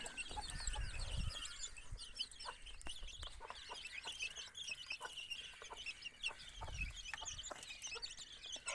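Several chickens cluck and chatter softly nearby in a steady, overlapping stream, with a few low thumps underneath.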